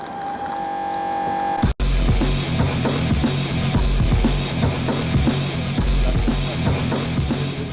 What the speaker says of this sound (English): take this spray can and put ignorance wherever you like on this car in big, bold letters